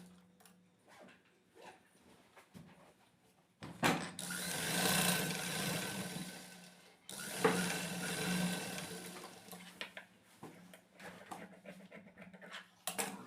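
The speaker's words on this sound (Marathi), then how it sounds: "इथे अशी सरळ मशीन मारून घेणार आहेत जो भाग आहे तो असा एकावर एक ठेवून आपण सरळ मशीन मारून घ्यायचे" A sewing machine stitches overlapped pieces of a katori-style blouse in two sustained whirring runs of a few seconds each, loud and close, with quiet handling sounds between them and no talking.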